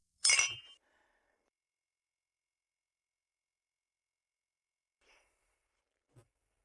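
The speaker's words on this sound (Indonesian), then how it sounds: "Selena, Aku bersulang untukmu." Glasses clink together in a toast with red wine, one sharp bright chime at the start followed by near silence and a couple of faint soft sounds.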